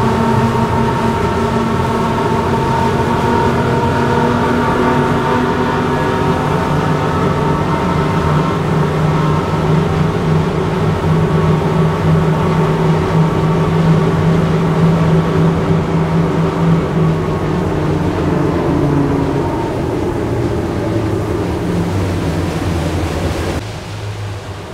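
A 42-foot Freeman boat runs on four Yamaha 350 outboard engines, a loud, steady droning hum with wind and water rush underway downwind that continues unbroken before dropping slightly at the end.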